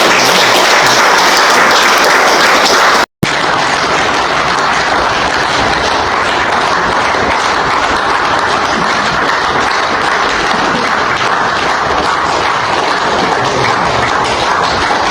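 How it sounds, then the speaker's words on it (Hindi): Loud, sustained applause from a large crowd at a village chaupal gathering, a dense continuous roar of clapping with a brief cut near the start. "एक बार जोरदार तालियां।"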